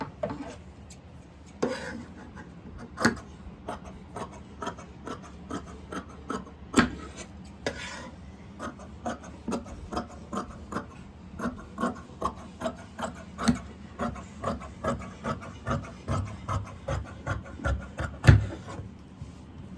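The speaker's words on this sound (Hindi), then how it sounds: "अब इसकी कटिंग कर लेंगे।" Scissors cut fabric for palazzo pants with a steady series of close, crisp snips and rasping slides, repeating regularly with short pauses.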